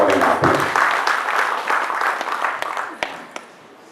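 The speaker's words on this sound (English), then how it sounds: "Can we please welcome him with a resounding applause?" An event audience gives a loud round of applause welcoming the Kwara State governor, dense close clapping that starts strong and gradually thins and tapers away, with a few scattered final claps.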